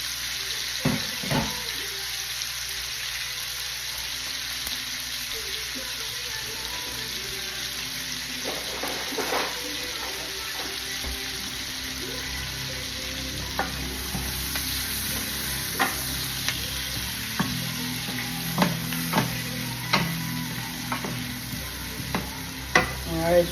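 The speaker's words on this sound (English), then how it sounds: "So I'm gonna let them sizzle just a little bit" Chopped onions sizzle in a pan for country style ribs in red wine sauce, a constant hiss with intermittent scraping and clinks of a utensil stirring, no talking.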